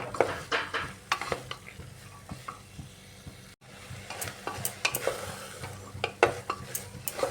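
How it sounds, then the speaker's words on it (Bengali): Soybeans and kidney beans for ghugni are sautéed with spices in a pan. A utensil stirs and scrapes steadily over a constant close sizzle of frying, with a brief break midway. "এইভাবে ভালো করে কষিয়ে নিতে হবে মশলার সাথে"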